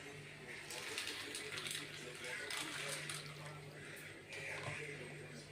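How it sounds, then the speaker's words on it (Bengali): Water runs steadily from a tap into a container to soak peas, a continuous soft splashing rush that is quiet and close, with a voice talking faintly over it. "এই যে জল দিয়ে রাখি"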